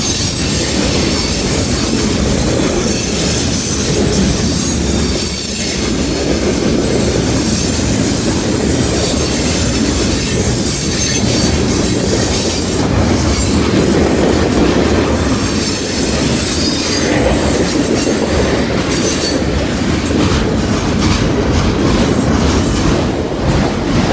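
A mixed manifest freight train rolls steadily past close by, a loud continuous rumble of railcars with wheel squeal and faint clickety-clack throughout, with no talk.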